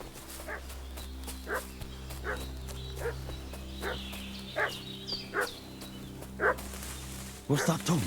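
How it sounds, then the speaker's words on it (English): Dog barking and fussing in the medieval game Kingdom Come Deliverance 2, with a string of evenly spaced barks over a low steady drone, ending in a louder flurry of yips and whimpers. "What's that dog making such a fuss about?"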